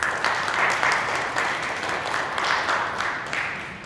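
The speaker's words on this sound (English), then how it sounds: "May I get a round of applause for our aldermen and candidates." A room of people at a community candidate forum in McAllister Hall gives a steady round of applause for aldermen and candidates, moderately loud and continuous for several seconds with no talking over it.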